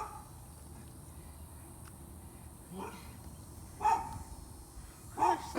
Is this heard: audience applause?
no